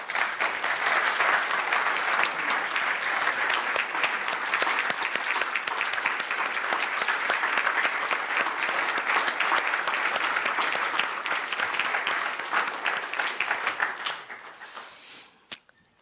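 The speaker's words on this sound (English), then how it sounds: "let's give him a round of applause." A church audience gives sustained, dense applause that holds steady for about fourteen seconds before tapering off at the end.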